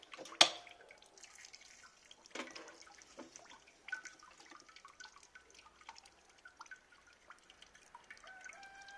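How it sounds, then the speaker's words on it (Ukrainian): Grape juice trickles and drips from a fruit press into a vessel below, a quiet run of scattered small drips and light splashes with one sharper plop near the start, no talking. "ще видно як там шурує сік, тече стікає сюди вниз"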